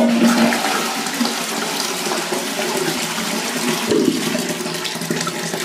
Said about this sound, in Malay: Sekarang kita coba flush